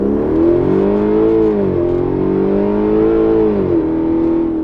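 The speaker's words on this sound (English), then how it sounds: "So here's the next run. Slight launch, traction off." A 2012 Hyundai Genesis 5.0 R-Spec V8 with about 140,000 miles launching hard with traction control off: a loud, steady engine roar climbing in pitch through two upshifts, heard close and with no talking.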